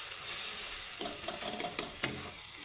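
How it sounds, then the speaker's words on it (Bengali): Beaten egg with a little salt being stirred in a bowl, a few quick close scrapes and clicks over a faint hiss. "ডিমটা আমার একটু এইভাবে নেড়েচেড়ে দিব।"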